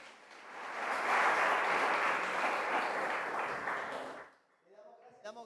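Congregation at an evening youth church camp service bursting into applause, a dense sustained clapping that rises, holds for about three seconds, then fades before a voice begins speaking.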